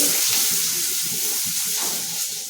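Mustard seeds, cumin, curry leaves and onion tempering in hot oil in a pan give a steady, close, bright sizzling hiss with faint crackles throughout, no voices.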